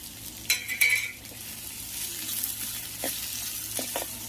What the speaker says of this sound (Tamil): எல்லாம் சேர்த்து வதக்கிக்கணும். ஒரு 2 மினிட்ஸ் நல்லா வதக்கிக்கணும்